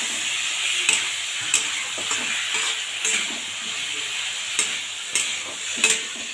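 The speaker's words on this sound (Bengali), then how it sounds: "ভালো করে ভেজে নেব" Washed lentils frying in a hot pan with ginger, a steady close sizzle broken by regular scraping stirs of a spoon against the pan roughly once a second.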